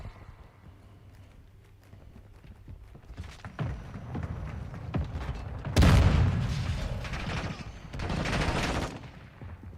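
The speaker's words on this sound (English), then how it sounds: "Hostile mortar strike near your position." Mortar strike explosions land in Call of Duty Modern Warfare II, a sudden heavy blast followed by rumbling impacts and gunfire, loud and close after a quieter stretch of scattered shots.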